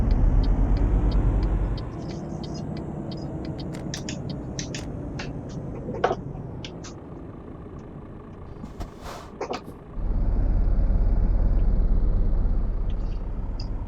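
A truck in Euro Truck Simulator 2 rumbles steadily at a ferry port, its low engine drone easing off midway. Brief clanks and a short air-brake hiss come before the engine swells again.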